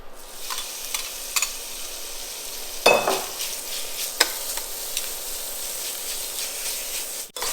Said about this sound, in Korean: 제일 처음에 베이컨을 볶습니다